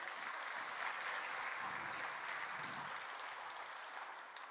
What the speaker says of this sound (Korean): 우리 한번 박수 한번 쳐드릴까요?